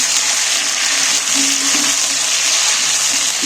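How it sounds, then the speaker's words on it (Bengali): Ginger paste being stirred and fried in oil for a koi fish curry: a loud, steady hiss of sizzling oil with faint stirring underneath, no talking. "আদা বাটাটা দিয়ে এইবার আমি একটু তেলের মধ্যে নেড়ে ফেলে নেব"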